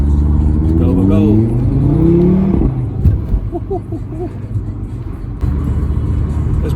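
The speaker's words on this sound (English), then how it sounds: "it is quite nice when you've got 5 cylinders to listen to" A five-cylinder car engine revs up loudly and climbs in pitch for a few seconds, then drops away. Interior noise and a voice follow, with a few brief chirps over the cabin hum.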